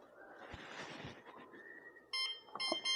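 A Wyze Lock Bolt smart lock pairing, with handling and rustling followed by a short series of bright electronic beeps near the end, close and clear.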